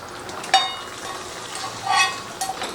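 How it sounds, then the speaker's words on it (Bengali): Tadka tempering poured into simmering chole in a pot gives a short sizzling burst, followed by soft stirring and a second sizzle, moderately close with no voices. "এখানে যে তড়কাটা আমি লাগালাম, ওই তড়কাটা এবারে আমি এর মধ্যে দিয়ে দিচ্ছি।"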